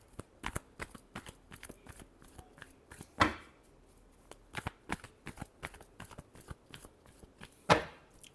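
Tarot cards being shuffled by hand, a rapid run of soft, dry riffling clicks and taps at close range, with a couple of louder snapping flourishes, no talking.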